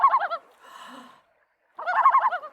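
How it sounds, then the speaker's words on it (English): A common loon gives its warbling tremolo call in two clear, close bursts separated by a softer note and a short silence. "that's where most hear the loon's iconic call."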